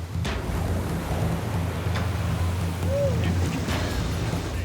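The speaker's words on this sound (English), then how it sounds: "The waves are pounding both lifeguards and their victims." Pounding ocean surf on a red flag day off a Southern California beach, a constant heavy roar of waves and wind with a boat engine droning low underneath, loud and close.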